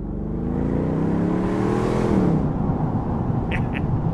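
A 2014 Bentley Continental GT V8 S convertible's sport exhaust gives a loud, rising V8 roar under acceleration, then settles into a steady rumble.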